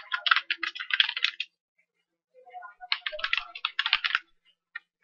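Fingers type quickly on a computer keyboard in two close, crisp bursts of rapid key clicks separated by a short pause, with a stray keystroke at the end.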